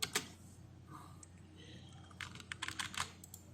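Computer keyboard keys tapped out a short message, a few isolated clicks early then a quick burst of close, crisp keystrokes in the second half, over a low steady hum.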